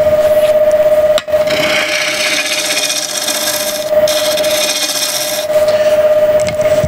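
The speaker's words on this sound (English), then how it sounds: "Which is more of a scrape cut, or you can use just the left of the point, which is more of a cutting action, and you can probably hear the difference" A bowl gouge makes a scraping cut on a wooden bowl spinning on a lathe, producing a loud, continuous rasping scrape over a steady motor hum, with a brief break partway through, close, no talk.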